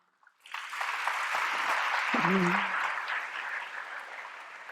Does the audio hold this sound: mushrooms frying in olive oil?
no